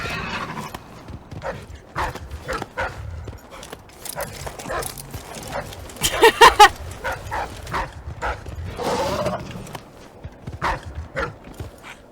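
A dog barks and whimpers in the video game Dishonored 2, with a run of close, sharp bursts that peak in a loud cluster midway, set over steady game ambience and footsteps.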